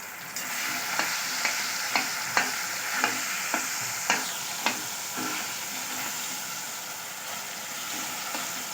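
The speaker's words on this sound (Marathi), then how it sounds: "आता आपण जे केळं घेतलेले त्याचे बारीक बारीक काप करून तुपामध्ये असे छान फ्राय करून घेणार आहोत" Thin banana slices frying in ghee over a low gas flame, with a steady sizzle and about a dozen evenly spaced spoon taps and scrapes against the pan.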